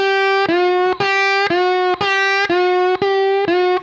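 A distorted electric guitar plays a slow, loose slide lick in standard tuning, a steady line of sustained notes with gliding pitch bends between them, about two per second, loud and alone.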